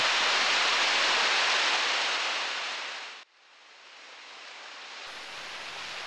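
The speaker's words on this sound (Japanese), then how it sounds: "トンガリ岩で二分された流れが一本になる姿を2 つの竜に見立てたもので 美しい滝です" A waterfall on a mountain stream in the Hatonosu gorge of Okutama roars as a steady, loud broadband rush, with one brief dip midway before the constant flow continues alone.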